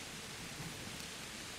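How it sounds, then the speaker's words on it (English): Heavy rain pours in the video game Kingdom Come: Deliverance, a dense, steady hiss of downpour filling the background, even and continuous with no voices over it. "it's pouring of rain"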